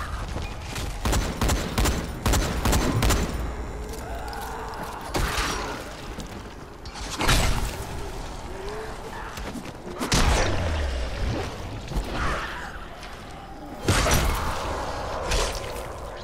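Gunfire and combat noise in the zombie survival game Dying Light, with repeated broadband bursts of shots over a busy, loud mix of impacts and whooshes, sustained throughout.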